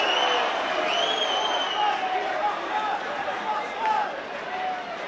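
A big rugby league stadium crowd during a Catalans versus Leeds match makes a dense, steady roar that swells and eases, with whistle-like tones and a commentator talking over it.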